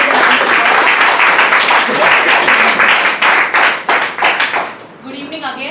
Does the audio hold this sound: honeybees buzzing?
no